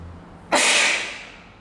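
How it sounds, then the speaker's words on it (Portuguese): A single sneeze from a preacher during a sermon, one sudden sharp burst that trails off within a second, close and alone. "crise de espirro"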